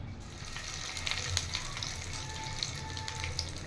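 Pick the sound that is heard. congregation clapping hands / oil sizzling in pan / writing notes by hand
oil sizzling in pan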